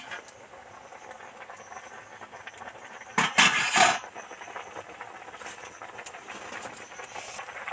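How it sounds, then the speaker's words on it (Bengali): Boiled pumpkin greens are strained out of their green-tinged cooking water, giving one brief hissing, splashing pour of under a second amid an otherwise quiet kitchen. "এবার জল থেকে এগুলো ছেঁকে"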